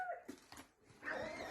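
A puppy whimpers and yips from inside a gift box, giving short high whines in a brief burst. The sound is faint and close, with one pause in the middle.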